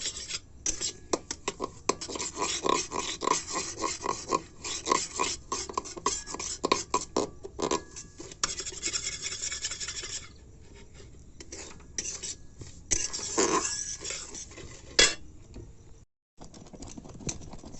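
A sweet of semolina and milk frying in ghee in a pan, giving a steady crackling sizzle with frequent scraping, rasping stirring strokes, loud and close, fading quieter near the end.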